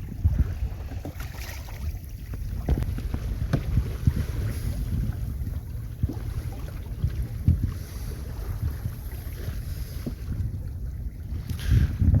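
Sailing canoe moves through choppy water around Plymouth Sound, with gusting wind buffeting the microphone over a constant low rumble and irregular splashes and slaps of water against the hull.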